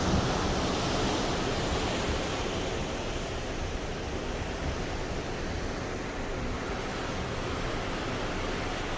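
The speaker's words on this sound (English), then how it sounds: "I just love coming out here at night on a balcony and just watching the water and listening to it." Ocean water rushes past below a cruise ship balcony at night, a broad steady wash of surf-like noise with faint wind, constant and fairly loud without talk.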